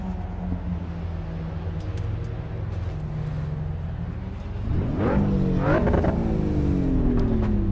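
A race car engine in the video game Assetto Corsa Evo idles with a low drone, then revs sharply several times, the pitch climbing and falling in quick bursts.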